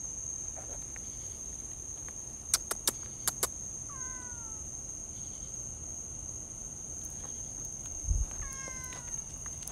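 A cat gives a couple of short, faint meows, with a steady chirp of crickets and a few sharp clicks in the background.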